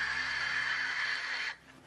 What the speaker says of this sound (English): what you hear is mostly wind noise as the parachute's descending through the atmosphere